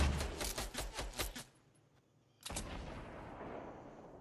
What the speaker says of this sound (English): let me use my grenade launcher